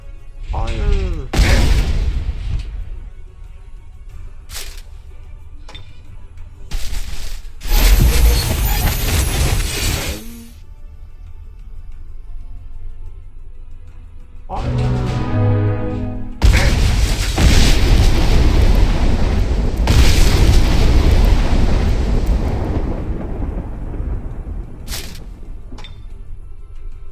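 Artillery fire and explosions from the strategy game Age of Wonders 3 come as several separate booms, with sharp short blasts and then longer, heavy rumbling bursts that are loud and close, separated by quieter gaps.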